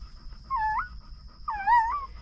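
A dog in labor whelping puppies lets out two high, whining whimpers about a second apart, close and fairly faint over a quiet room hum.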